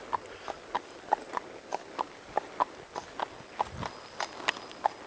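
Hooves of Hampton the horse clip-clop along a road in Murfreesboro, Tennessee in an even walking rhythm, about three crisp strikes a second, close by over faint background noise.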